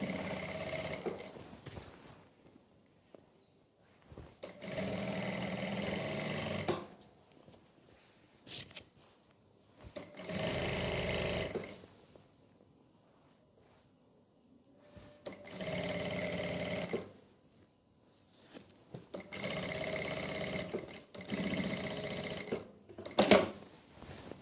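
A sewing machine stitches along the edge of a salwar at medium speed, running in several separate bursts of steady whirring clatter with quiet pauses and light handling noises between them, fairly close.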